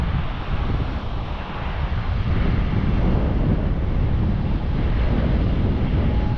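Strong, continuous wind at a beachside rest area in Michigan roars against the mic, a dense rumbling rush that never lets up.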